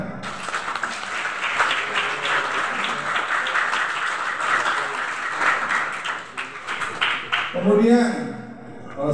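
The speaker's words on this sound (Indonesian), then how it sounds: "Tepuk tangan." Applause at a school graduation ceremony, a dense burst of many hands clapping that carries on for several seconds before fading, with a voice coming in near the end.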